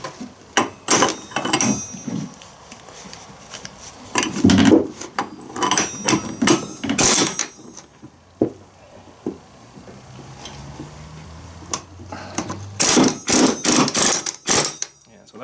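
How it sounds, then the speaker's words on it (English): Tight flywheel being loosened on a cheap TS400 cutoff saw during teardown, heard as sharp metallic knocks and clanks in irregular bursts, loud and close, with brief quiet stretches between them. "Loosening the flywheel."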